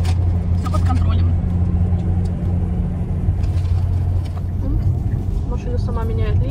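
A Tesla drives itself on autopilot, changing lanes on a road in Busan, South Korea, giving a low, steady cabin rumble with road noise underneath while people talk throughout.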